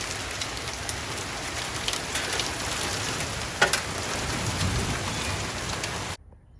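Heavy rain mixed with hailstones pelts down on a vegetable garden in Texas, a dense steady hiss of drops striking the ground and plants, with one brief louder impact, close and continuous until it cuts off near the end.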